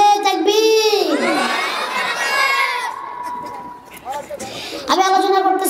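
A large crowd of men and children at a religious gathering roars a chanted takbir response in loud unison, twice, with a lone child preacher's voice calling between the responses.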